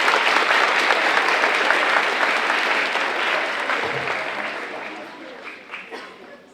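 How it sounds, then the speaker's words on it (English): An audience in a school bleacher section applauds at a middle school honor society induction, a full dense burst of clapping that gradually tapers off, with a few voices mixed in. "Let's hear a round of applause, please."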